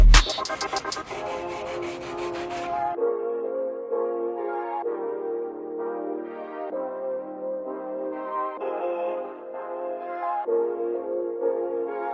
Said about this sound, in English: Gotta sand this to make it look smooth